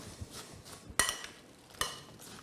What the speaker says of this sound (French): On les mélange bien.